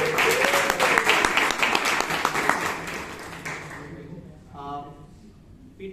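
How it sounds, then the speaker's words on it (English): Toastmasters club members in Bangalore give a round of applause, dense clapping filling the room for a few seconds before tapering off, after which a voice speaks. "can we have a big round of applause?"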